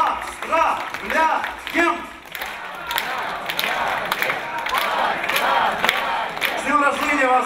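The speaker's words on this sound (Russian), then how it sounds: "Эти аплодисменты звучат в вашу честь." Applause from an audience at the closing ceremony of a national school chemistry olympiad, congratulating students. It runs continuously, fairly loud and steady, with a voice speaking over the clapping and crowd.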